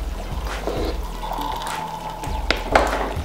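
Vinegar is poured into a bowl of egg dye, a brief soft liquid splash and trickle near the start, followed by faint clinks and handling sounds, close and quiet.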